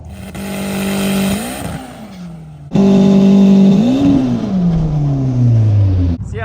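A drag race car makes a pass down the track at night, its engine revving loud and close with a sharp gear-change break, then climbing again before easing off as the pitch falls.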